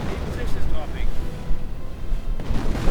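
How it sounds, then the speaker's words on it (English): Intense artillery fire in a 2v2 World War II strategy video game battle: a dense, continuous rumble of booming blasts and low explosions, loud and layered throughout with no clear gaps. "And some pretty intense artillery."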